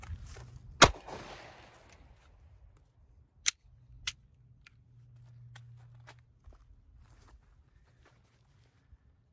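A single sharp 9mm pistol shot fired almost point blank into a soft body armor vest cracks out loudly near the start, followed by a few fainter clicks and knocks in a quiet setting.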